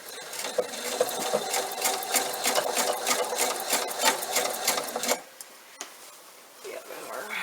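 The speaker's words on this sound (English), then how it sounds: "I'm going to start at the seam, and I'm going to sew this around your 1/4 inch." A sewing machine runs a quarter-inch seam on a bunny bag through several layers, a close, fast chattering stitch that stops abruptly near the end, leaving a quieter room tone with a faint click.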